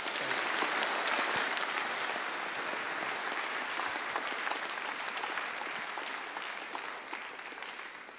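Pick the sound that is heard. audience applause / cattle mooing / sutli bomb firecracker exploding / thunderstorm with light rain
audience applause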